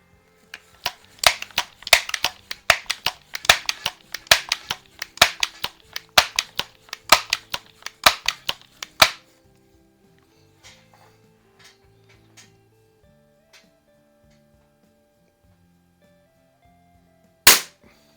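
Plinking guns fire a rapid string of sharp, loud cracks for about nine seconds, then quieter clicks and handling noises follow, and a single loud shot rings out near the end.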